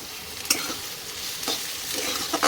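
Chopped tomatoes and onions fry in a pan while being stirred, a constant sizzle broken by a few sharp scraping strokes of the spoon, close up and without speech.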